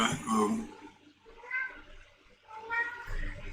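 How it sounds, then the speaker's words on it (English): A house cat meows up close, three distinct drawn-out cries spaced about a second apart, with quiet gaps between them and no talking over them. "yes, and that's my cat"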